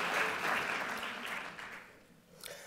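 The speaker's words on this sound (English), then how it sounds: "So I'll start by applauding you, Wes." A business forum audience applauds faintly in a soft, steady wash of clapping that fades slightly before a small final swell.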